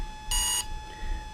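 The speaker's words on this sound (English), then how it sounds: "low cutoff threshold is 1 beep" A single electronic beep from an RC car's electronic speed controller (Exceed RC Proton/Volcano ESC) during programming, one short loud tone lasting about a third of a second against a quiet hum.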